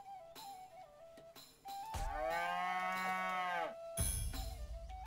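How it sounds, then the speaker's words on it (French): A cow in the South Park: The Stick of Truth video game gives a long, loud, drawn-out moo over quiet game music, with a shorter low sound following it. "Où est la reine des vaches? Le roi des vaches."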